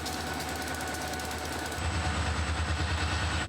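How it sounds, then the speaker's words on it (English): A working freight train rolls past nearby, a loud continuous rumble and rhythmic clatter of wheels that swells partway through and stays heavy until it cuts off. "just as I pulled up, a real working train drove by"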